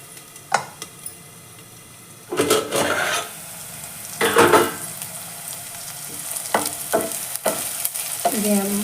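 Capsicum frying in a pan while being stirred, with a low steady sizzle and several scraping bursts of the spatula, some longer and louder, close and alone.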